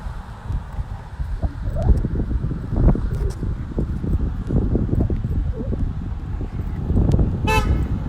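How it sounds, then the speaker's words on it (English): A passing car honks a short friendly toot on a suburban street in Katy, a brief bright horn burst near the end amid wind and rustling outdoor noise. "I think that was a nice honk."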